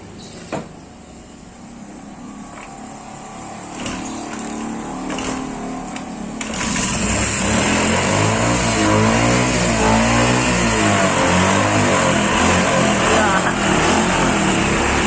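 A motorcycle engine, just fixed after running dry of oil with a stuck kick-starter, catches and settles into a loud, steady close-up idle and rev after some brief clanks, with someone talking over it.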